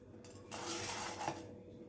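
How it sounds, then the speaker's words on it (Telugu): Coriander seeds dry roasting in a pan for rasam powder, a steady close rustle and light rattle of seeds shifting against the metal, with a louder burst of scraping midway, no voices. "ఇప్పుడు మనము ధనియాలు వేయించుకుందాము"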